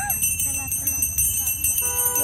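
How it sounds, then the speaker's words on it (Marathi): Hand bells rung by girls walking in a Konkan Gauri Ganpati festival procession jingle continuously, a bright metallic ringing layered over crowd noise and the shuffle of moving people. "त्यांनी हातात घंटा घेतल्या आणि त्या घंटा वाजवत चालल्यात"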